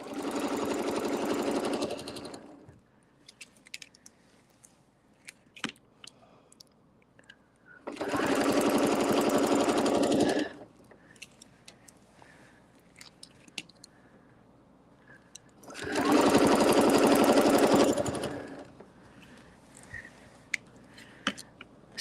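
A sewing machine stitches a quilt guided by a quilting ruler, running in three separate bursts of a couple of seconds each, with quiet clicks and handling noises between them.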